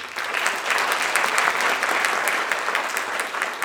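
Audience applause fills an awards ceremony hall honoring creators of the year, a dense, steady wash of many hands clapping at close range from start to finish with no voices over it.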